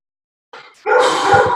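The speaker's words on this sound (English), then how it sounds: "I have a barking dog situation." A dog barking behind a curtain indoors, a short burst of loud, close barking and yipping after a brief softer sound, with no talk over it.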